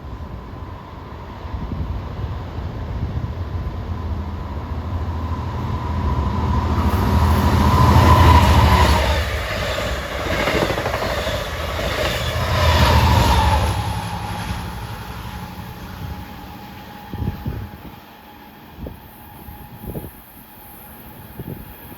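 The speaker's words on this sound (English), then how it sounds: "Comes that eastbound dual mode set at 917." A Long Island Rail Road dual-mode train set passes at Forest Hills during the morning rush, its roar swelling twice as the cars go by and then fading into clacks and scattered thumps.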